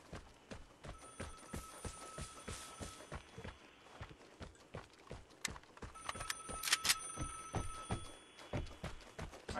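A telephone rings in two long stretches of bright trilling bell tones, faint and somewhat distant, set against a steady run of rhythmic knocking, clopping steps.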